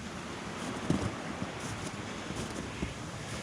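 A small waterfall flows with a steady, faint broadband rush of water outdoors, with a few soft splashes and no voices.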